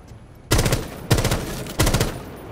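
Three loud bursts of rapid automatic gunfire in a first-person shooter game, each a rattling volley about half a second long, with short gaps between them.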